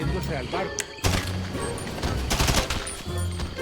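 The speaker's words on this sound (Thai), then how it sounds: "ตัวนี้ลูกยิงอย่าพลาดนะ" Gunfire from the GTA Online video game during a Cayo Perico heist, a dense burst of shots with loud impacts and crashes in a steady barrage, with people talking over it.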